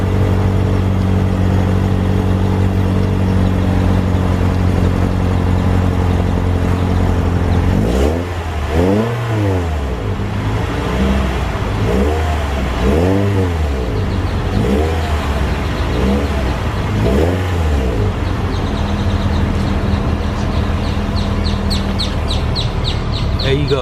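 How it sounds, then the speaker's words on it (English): Exhaust note of a 2018 Toyota C-HR, a steady low engine drone outdoors that rises and falls in several short revving surges in the middle, with birds chirping faintly in the background. "We're gonna go ahead and get that exhaust note"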